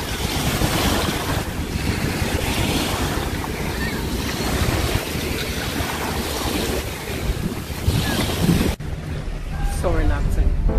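Water washes against a park shoreline on a hot day, a steady broadband rush mixed with heavy wind buffeting the microphone, which drops away near the end and leaves a quieter stretch.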